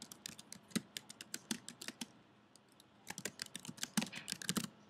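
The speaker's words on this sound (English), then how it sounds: "We highlight sample text and start typing a title." Rapid, fairly quiet clicking of a computer keyboard as a title is typed in an editing program, two bursts of keystrokes separated by a short pause.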